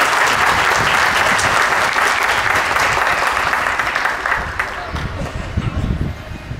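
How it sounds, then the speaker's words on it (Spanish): Dense, steady applause from a crowd at a parish anniversary celebration in Zambi, Catamayo, filling the whole stretch and easing slightly toward the end, with some voices mixed in. "Yo sí pido para ello un fuerte aplauso"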